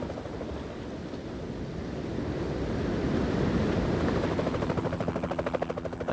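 A helicopter filming a Whitbread yacht race at sea, its rotor chop pulsing steadily and growing louder toward the end over broad wind and ocean rush.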